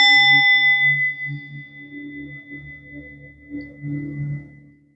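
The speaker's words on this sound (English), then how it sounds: "So first bell, starting from the root chakra." A meditation bell for the root chakra is struck once, its bright ring fading slowly while low resonant tones swell and pulse beneath it, with no talking.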